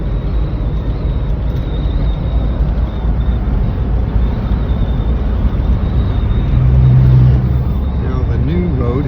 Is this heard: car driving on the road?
yes